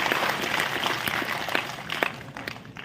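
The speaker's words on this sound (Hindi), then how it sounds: "ताली बजा सकते हैं कि नहीं?" A training-session audience claps in scattered, uneven bursts, individual hand claps standing out against a noisy room and thinning toward the end.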